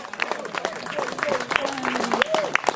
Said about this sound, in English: Round of applause for these people.